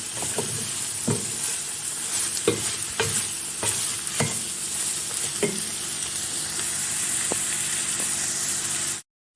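Chicken sauté being stirred in a pan after thyme and red pepper flakes go in, with a steady frying sizzle and repeated scraping knocks of the utensil against the pan, close up and without speech.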